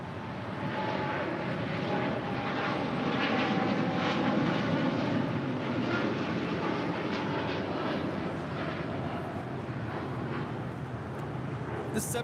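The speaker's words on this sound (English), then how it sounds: "The 787-10 Dreamliner is taking off to Tokyo Haneda." A United Boeing 787-10 Dreamliner takes off at LAX with a broad, roaring jet rush heard from a distance. It builds gradually, peaks midway and then holds steady while fading slightly toward the end.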